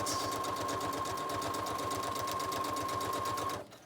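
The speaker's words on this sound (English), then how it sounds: "So I just stitched random pieces of fabric and I made a pocket on the front." A sewing machine runs steadily for several seconds, stitching random fabric pieces together for a gift-bag junk journal. Its rapid, regular needle rhythm hums close and loud, with a high steady whine underneath, then it stops abruptly near the end.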